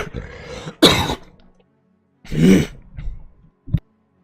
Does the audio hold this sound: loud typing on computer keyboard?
no